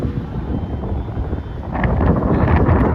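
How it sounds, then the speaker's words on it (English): A helicopter taking off near the Tsim Sha Tsui Promenade in Hong Kong: a low, steady rotor-and-engine rumble mixed with gusty wind noise, swelling louder toward the end. "you see a helicopter taking off"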